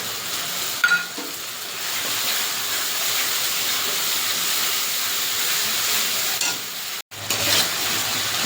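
Ginger, garlic and green chili paste hits hot oil in a pan for a kabuli chana dish, a loud continuous hissing sizzle with a few stirring clatters and a brief break near the end.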